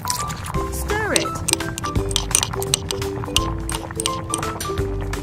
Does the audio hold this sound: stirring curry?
yes